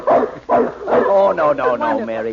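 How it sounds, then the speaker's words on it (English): A dog barks in a 1940s Boston Blackie old-time radio mystery drama, a few sharp yelps mixed in with dialogue spoken over them. "A dog."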